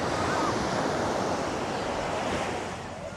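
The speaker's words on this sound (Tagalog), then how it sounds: "Kagabi medyo malakas yung alon. Ngayon din, no?" Ocean surf rolling onto a sandy beach in Dingalan, Aurora, a loud continuous wash of breaking waves with wind, fading slightly near the end.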